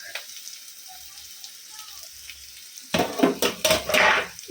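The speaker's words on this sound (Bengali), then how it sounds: "আমি উঠছি আর আলু ভাজছি ফ্রাই করছি" Potatoes frying in a pan in a home kitchen, starting as a quiet low sizzle with a few faint clinks, then a sudden louder burst of crackling, stirring and spatter in the last seconds.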